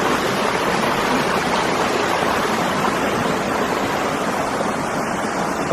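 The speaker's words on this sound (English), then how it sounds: "the waterfall continues, and the cascades over the edge down there" A waterfall cascading over a cliff edge, heard as a steady, loud, continuous broadband roar of rushing water with no pauses and no voices.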